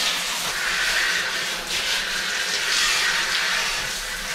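Water sprays hard and continuously while a bicycle is being washed inside a bathroom, a bright, steady hissing rush close by with slight surges.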